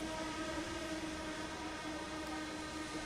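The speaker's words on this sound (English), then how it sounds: "The train doesn't stop here anymore." A train rumbles steadily through a station in a video game, a constant loud mechanical roar with a sustained low drone and no pause throughout.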